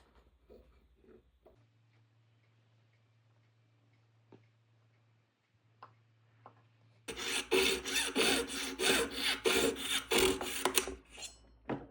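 A metal sizing piece for an onyx ring being cut, heard as quiet, sparse ticks and a low hum at first, then close, loud rasping saw strokes in a steady back-and-forth rhythm for the last several seconds, with no talking.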